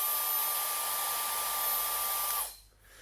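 A Gamma IQ Perfetto hair dryer blows with a steady, close airy whoosh and a thin motor whine, then switches off and winds down abruptly near the end.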